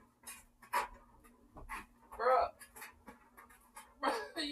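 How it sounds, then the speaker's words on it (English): A dog named Zuko barks inside a house in short, muffled bursts, some sounding like panting or whimpers, heard a little distant while people talk nearby. "I hear him barking in the house."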